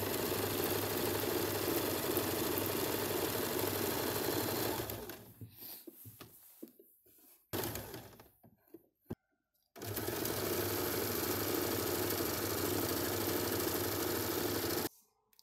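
A sewing machine stitches all the way around a halter neckline, running in steady loud bursts with a pause in the middle before a second long run.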